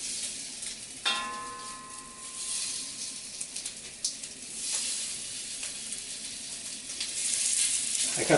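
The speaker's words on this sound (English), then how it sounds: "I'm going to cook the shrimps until it has a nice pink color on it." Shrimps sizzling in a hot wok, a steady crackling fry that carries through the whole stretch with a brief ringing clink near the start and a few sharper pops later, close and moderately loud with no talking.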